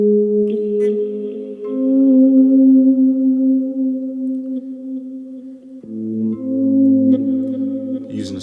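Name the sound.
guitar through Boss Katana Air amp with chorus and delays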